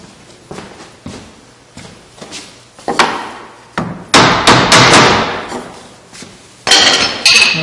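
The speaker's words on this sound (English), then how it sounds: "Get a little hammer, tap that thing." A hammer taps a wooden face frame on a Kreg face frame table repeatedly, starting with light, spaced knocks and building to louder, sharper strikes in quick bursts, close by with no talking.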